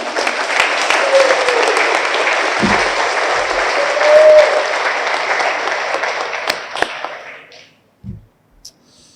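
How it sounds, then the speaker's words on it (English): An audience at a fire department awards ceremony gives a round of applause, dense steady clapping filling the room for several seconds before thinning out and stopping, followed by a few scattered sharp claps. "Can we give them a round of applause?"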